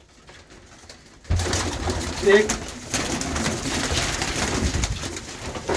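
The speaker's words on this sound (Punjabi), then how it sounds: "ਇਹ ਕਬੂਤਰ ਆ" Punjabi Malwai pigeons coo in a loft in England, a soft throaty coo rising among shuffling and handling noise, with people talking nearby.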